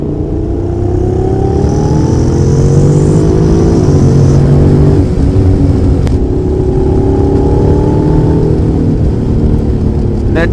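A Honda NC750X motorcycle rides on a race track in standard mode with a loud, close engine drone. Its pitch climbs and drops as the rider accelerates and shifts, steady with no gaps.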